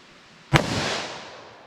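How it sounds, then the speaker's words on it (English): A single loud, sharp shot from a short-barreled .357 Magnum snub-nose revolver cracks once, then a reverberant tail slowly fades over the next second. "short barrels, 357 mag in this little snub here."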